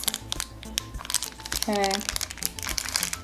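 Plastic blind bag packaging around a Disney Doorables toy crinkles and crackles as it is torn open up close, with a person speaking briefly over the rustling.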